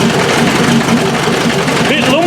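A 2.5 naturally aspirated engine running on a pallet, loud and close with a slightly lumpy, uneven idle, while a voice talks over it.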